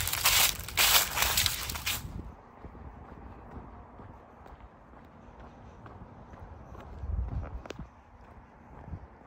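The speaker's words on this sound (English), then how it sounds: "I like the sound of the falling leaves when I'm walking." Footsteps crunch through dry fallen leaves on a park path, a loud crackling burst up close at first, then quieter uneven steps rustling along with a brief louder crunch near the end.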